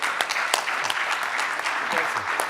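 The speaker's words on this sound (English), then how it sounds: "they deserve a big round of applause." An audience at a medical conference for interventional radiology (ISVIR) applauds steadily, with dense clapping filling the whole moment.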